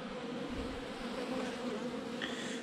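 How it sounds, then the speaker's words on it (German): Honeybees buzz close and continuously during a November hive inspection, forming a dense, steady drone with no speech. "Eine Biene gerettet."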